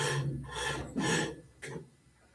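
A tool is ground on a grinder wheel in several close, rasping passes of a few tenths of a second each, separated by short gaps.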